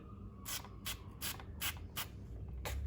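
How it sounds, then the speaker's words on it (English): A spray bottle of peroxide is pumped about six times onto a carpet stain, each a short, sharp hiss of mist at a steady pace, close by. "So quite simply, I'm going to spray peroxide"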